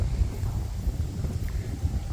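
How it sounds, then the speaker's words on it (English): Wind gusts across an outdoor garden with tomato beds, a steady low rumbling buffet against the microphone that runs unbroken throughout and never drops away. "hopefully the wind will calm down this afternoon"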